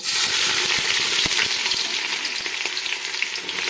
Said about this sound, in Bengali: পেঁয়াজটা আমি এখন এই তেলের মধ্যে দিয়ে দিচ্ছি